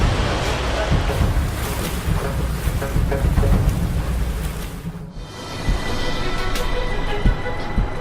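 A giant Triple E container ship on rough open sea: heavy roaring wind and crashing waves fill the scene, loud and continuous, then the roar drops abruptly partway through and gusty surf continues more thinly.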